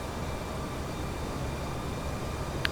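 Another player's airplane in Flight Simulator X Steam Edition produces a steady, even engine drone with a hissing rush that holds constant throughout, with one tiny click near the end.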